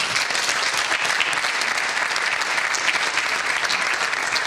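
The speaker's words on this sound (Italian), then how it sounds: "un applauso" Steady audience applause at an Italian football fan event, a continuous, fairly loud wash of many hands clapping with no voices over it.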